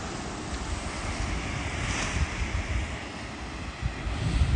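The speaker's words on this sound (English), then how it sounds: "Y'all want to see the beach?" Ocean waves wash onto the beach at Destin in a steady broadband rush, with wind buffeting the microphone and the surf swelling slightly louder toward the end.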